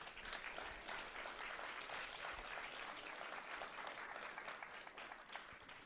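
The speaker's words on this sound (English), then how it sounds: "How about one more big round of applause for all of our presenters today?" A symposium audience applauding its presenters: steady, moderately loud clapping from a crowd that holds evenly throughout and tapers slightly at the end.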